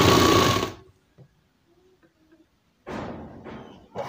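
A sewing machine stitches a chudidar, a loud close burst of rapid whirring stitches at the start, then near silence with faint handling taps, followed by two shorter stitching runs.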